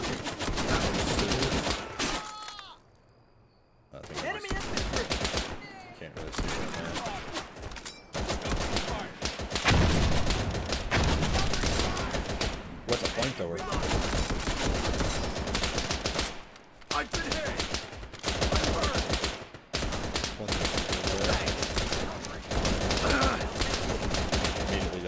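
Sustained gunfire from the World War II shooter Easy Red 2 at the Battle of Anzio: dense, loud bursts of rifle and machine-gun shots crackle almost continuously, with brief lulls near the start and midway.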